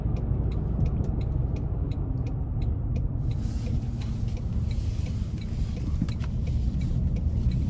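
A 2025 Toyota Tundra Hybrid TRD Pro pickup's engine drones steadily with low rumble, rising in intensity as it accelerates hard, with faint ticking and road noise throughout.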